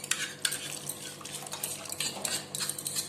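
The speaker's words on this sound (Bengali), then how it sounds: "ওই যে টক দইয়ের বাটিটা ধুয়ে অল্প একটু জল আমি দিয়ে দিচ্ছি" Kitchen sounds of a yogurt bowl being rinsed and a little water added to a dish, with clinking utensils, stirring and a soft sizzle underneath; close, busy and irregular, with no speech.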